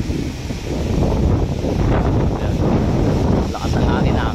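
Strong wind roars steadily and loudly over the microphone outdoors among trees, with heavy low rumbling gusts throughout.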